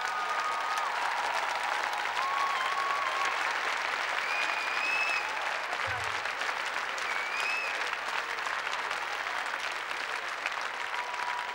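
Sustained crowd applause at an international Latin dance competition in St. Petersburg, Russia, a dense steady wash of clapping from a large audience that holds evenly throughout with some whistles rising above it.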